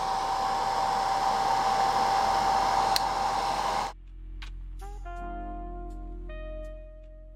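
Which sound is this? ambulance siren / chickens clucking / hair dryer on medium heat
hair dryer on medium heat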